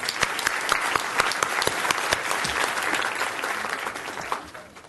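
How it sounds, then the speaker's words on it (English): Audience at a Fort Worth school board meeting, with students and families present, gives a round of applause: dense, steady clapping from many hands that carries on for several seconds and tapers off near the end. "So let's give them one more round of applause."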